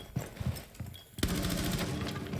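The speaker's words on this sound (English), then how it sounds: "we do see the gunfire" Sustained automatic gunfire in a Rainbow Six Siege college esports match, Marietta College vs. Kettering University: scattered shots first, then a dense, continuous burst of rapid fire from about the middle onward, loud and with no talk over it.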